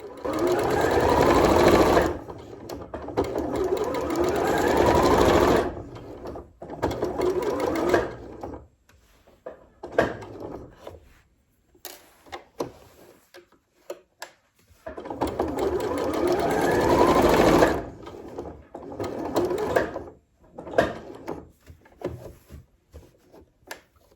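A sewing machine stitches a fabric-scrap bookmark in several loud whirring bursts, separated by quieter gaps with small clicks and fabric handling.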